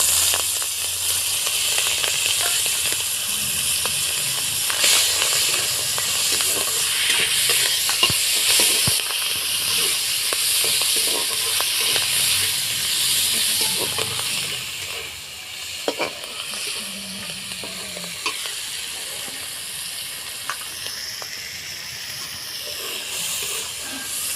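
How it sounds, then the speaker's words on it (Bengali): Prawns fry in hot oil for Hakka noodles, giving a steady, loud sizzle and hiss that runs unbroken throughout, with small pops and stirring scrapes. "তেলটা গরম হয়ে গেছে চিংড়ি মাছটা বেজে নেব"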